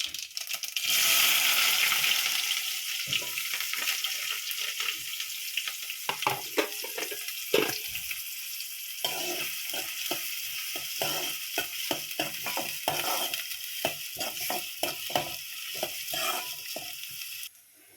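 Onions sizzle and crackle in hot oil with cumin and seasoning spices for egg curry, with repeated scraping and clinking of a spatula stirring the pan close by.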